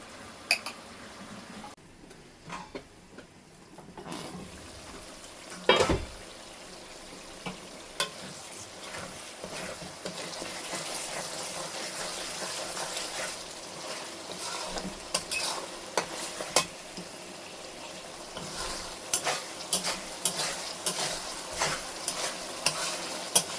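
Mustard paste is stirred into a spicy hilsa fish curry in a pan, giving steady scraping and stirring with a soft, continuous sizzle underneath and a few sharper clinks, close and fairly quiet, with no talking.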